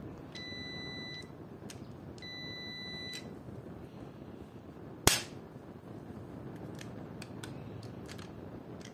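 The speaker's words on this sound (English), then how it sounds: "the device beeps means that the switch is healthy" Several short, high electronic beeps from a tester checking an RCCB switch sound in pairs and singles against a steady low hum, with one sharp click partway through.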